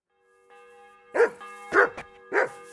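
Three loud barks from a dog in the medieval video game Kingdom Come: Deliverance II, spaced about half a second apart over a steady tonal background hum, with no talking.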